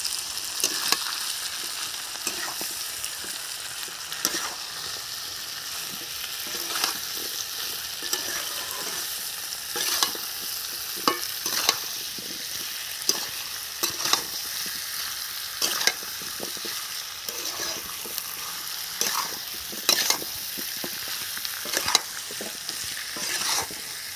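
A spice paste of ginger-garlic paste, salt, turmeric and chili powder fries for a village-style jackfruit curry. A continuous loud sizzle runs under repeated scraping stirs, and no one speaks.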